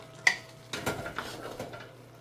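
Spoon scraping and knocking inside a pot of Gambian thiébou narr, a few clanks and soft scrapes spread over a couple of seconds, close and moderately loud with no talking.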